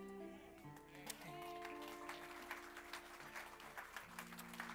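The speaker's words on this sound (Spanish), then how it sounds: "Un fuerte aplauso al Señor." Applause rises in a church service, quiet clapping from the congregation mixed with sustained organ or keyboard tones, the claps sharpening into distinct bursts toward the end.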